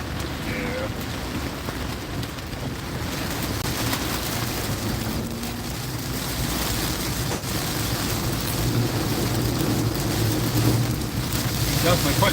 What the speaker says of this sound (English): Definitely putting down the rain.